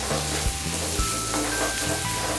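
Chili, coriander and cumin powder frying in oil for dry kadai paneer, a steady close sizzle with low scraping stirs throughout, no voices.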